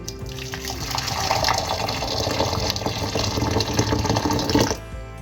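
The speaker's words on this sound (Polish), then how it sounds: "Wlewamy do niego 500 ml gorącej wody." Hot water, 500 ml, pours steadily into a dish for dissolving jelly, a continuous splashing gush for about five seconds before it stops.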